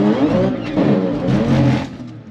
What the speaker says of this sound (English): First launch using fuel cut.